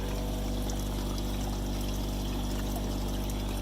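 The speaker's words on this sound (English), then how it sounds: "all that dirty water is coming down through this pipe here" Dirty duck pond water pours steadily down through a filter pipe, a continuous, even rushing flow with a low hum underneath and no voices.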